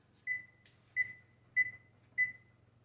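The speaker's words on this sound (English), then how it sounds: "I'm gonna set the timer for about 30 minutes." A kitchen timer on a stovetop gives four short, evenly spaced electronic beeps while it is set, each a clean single tone, faint over a low steady hum.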